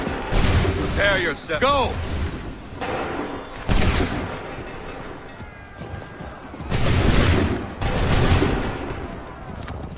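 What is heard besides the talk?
musket volley firing in the video game Assassin's Creed 3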